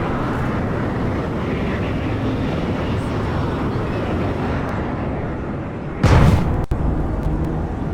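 Steady roaring drone of enemy aircraft engines in the sci-fi shooter Planetside 2, continuous and fairly loud, broken late by a sharp burst like a nearby blast or impact.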